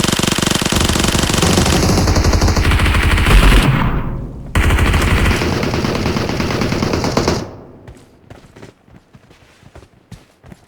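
Sustained automatic gunfire in the mobile battle royale game PUBG Mobile during a tournament match, loud dense bursts with a brief break, then fading into scattered footsteps and distant shots.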